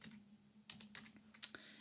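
Scattered keystrokes on a computer keyboard, a zip code being entered into Outlook, in a few soft bursts with one sharper click near the end, close up over a low steady hum.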